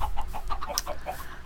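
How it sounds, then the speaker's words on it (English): Chickens clucking in the Minecraft video game, a run of short repeated clucks over a steady background, with no voices. "you can hear all the chickens"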